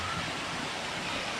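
Water flowing steadily into a set of pools makes a continuous, even rush of broadband noise. It sounds fairly soft and close, with no breaks across the brief stretch.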